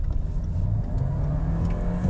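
Volkswagen Santana GTS, a front-wheel-drive car with a 1.5 liter engine, accelerating through a corner, its steady droning exhaust note loud and close inside the cabin throughout.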